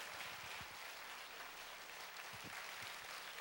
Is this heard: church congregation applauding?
yes